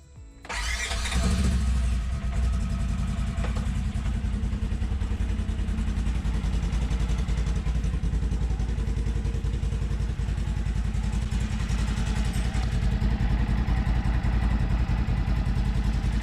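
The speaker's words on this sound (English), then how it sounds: "we're gonna start and run this engine for about 30 seconds" A 2022 Polaris General utility vehicle engine cranks and starts after an oil change, then idles steadily and loudly at close range for the rest of the clip.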